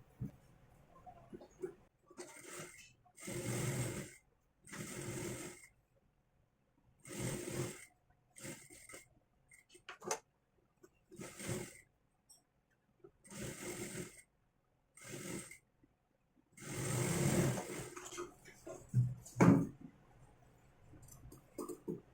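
A sewing machine stitches a princess-cut blouse in a quiet room, running in many short bursts of varied length separated by near-silent pauses.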